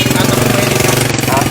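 Vehicle engine running close by at a busy morning market, a loud steady rumbling chug with a rapid pulsing throb that fills the whole moment, no words spoken over it.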